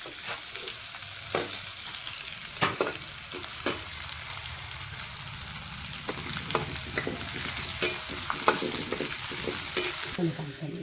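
Green chillies fry in hot oil in a pan for Maharashtrian sabudana khichdi, a constant close sizzle broken by occasional spoon scrapes and stirring clicks.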